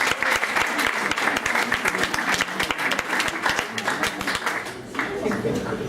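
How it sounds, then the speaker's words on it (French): Sustained applause from a crowd, dense rapid clapping throughout that thins slightly near the end. "On peut les applaudir."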